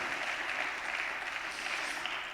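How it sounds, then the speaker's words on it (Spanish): Steady applause from a church congregation honoring the King of Kings during a Spanish-language sermon, a dense continuous clatter of many hands lasting a couple of seconds with no voices on top. "dale un aplauso al Rey de Reyes, por favor"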